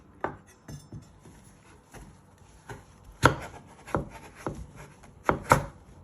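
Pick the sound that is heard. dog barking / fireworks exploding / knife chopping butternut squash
knife chopping butternut squash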